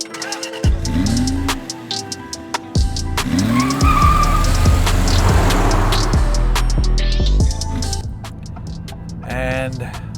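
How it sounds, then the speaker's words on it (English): A 2023 Maserati MC20, a mid-engined sports car, revs and pulls away hard, its engine note climbing through rising sweeps and gear changes, loud and close, with a brief tire chirp and some talk at the start. "What we do in a sports car is we hit the gas and we go."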